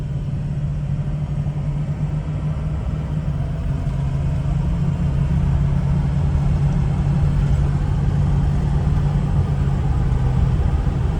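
A 2004 Ford Excursion Limited with a 6.0L Powerstroke diesel and 4WD, running steadily with a loud, continuous low engine drone and a humming tone as it moves through smooth, barely noticeable gear changes.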